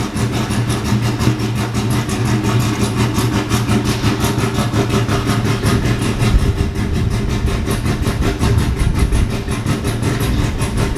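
A Chevrolet C10 pickup with a newly fitted exhaust idles close by, a loud, steady, deep rumble with a fast, even chuffing pulse and a slight lope that holds throughout.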